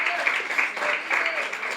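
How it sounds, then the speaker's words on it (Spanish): A church congregation claps during a Sunday service, the brief, diffuse applause blending with raised voices throughout. "¿Quieren dar un aplauso al Espíritu Santo por eso?"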